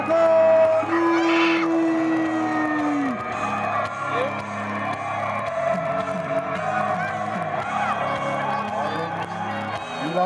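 A wrestling crowd at a CWF event applauds and cheers for an entering wrestler, a dense, sustained roar of claps and shouts with whistles and whoops, while an announcer's voice rings out at the start.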